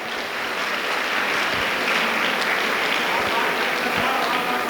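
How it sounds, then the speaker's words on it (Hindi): Audience applause at a motivational Kavi Sammelan poetry gathering, a steady wash of clapping from a large crowd that holds for the whole stretch, with voices mixed in underneath. "तालियां बहुत कमजोर है"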